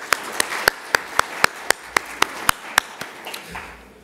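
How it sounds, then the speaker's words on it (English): Sparse, evenly spaced claps from a small meeting audience in a room, about a dozen sharp hand claps in steady rhythm that thin out and fade by the end. "I think we all deserve a round of applause for ourselves"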